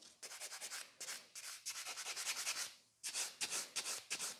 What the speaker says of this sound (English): And the buffer I'm using is 100 by 180 grit as well.